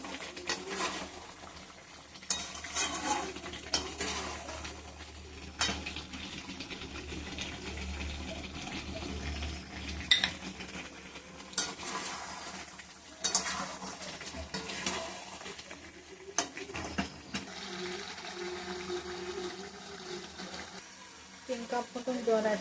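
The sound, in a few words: stirring and sautéing chicken curry in a pan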